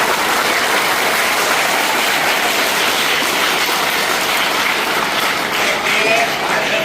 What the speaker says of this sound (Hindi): बेटा जोरदार ताली बजाओ इनके लिए।